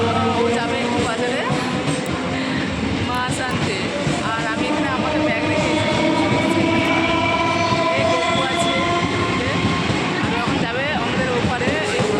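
A train passes through a railway station with a loud, continuous rumble, a steady tonal whine above it and faint clanking throughout, with some voices mixed into the din.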